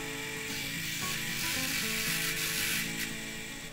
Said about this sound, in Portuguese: E vou estar fazendo o furo aí.